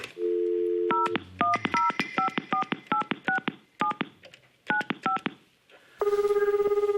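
A series of short touch-tone beeps as a phone number is dialed, clear and evenly spaced, ending with a steady ringing tone.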